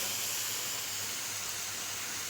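Homemade potato chips frying in hot oil give a steady, close, even hiss with no talk over it.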